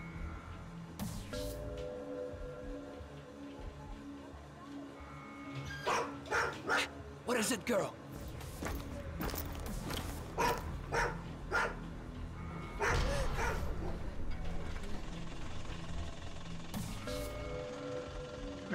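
Dog barking in The Road 66 video game, a series of short sharp barks in bursts over steady game background, with someone talking to the dog and other voices speaking.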